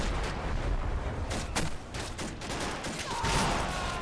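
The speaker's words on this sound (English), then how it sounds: "3 mortars are taking care of it." Mortar fire in Men of War: Assault Squad 2 on a World War II Western Front battlefield, a dense series of booming blasts and crackling impacts, several sharp bursts landing close in succession over continuous rumbling combat noise.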